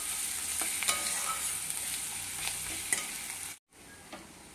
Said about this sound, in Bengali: এবার রসুন বাটাটাকেও আমি পেঁয়াজের সাথে মিশিয়ে একটু ভেজে নেব।